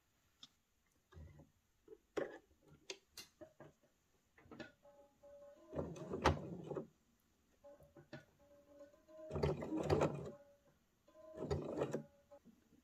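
A sewing machine with a rounded-tip jersey needle stitches jersey knit fabric slowly, in short bursts of close mechanical whirring separated by quiet ticks and handling clicks.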